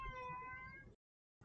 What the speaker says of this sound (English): My poor cat wants some attention. He meowed at me.